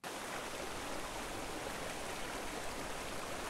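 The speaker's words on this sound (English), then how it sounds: "Let's carry on down to the waterfall." A waterfall and rushing stream in Scotland produce a steady, dense roar of moving water. It is close and continuous, with no voices.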